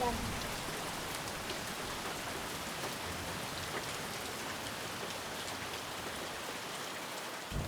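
Steady, heavy rain pours down in a dense, even hiss of drops hitting surfaces, continuous throughout.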